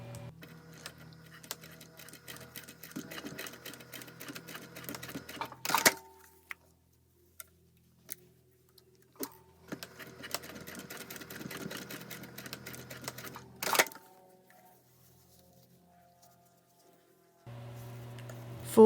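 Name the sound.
sewing machine stitching zipper ends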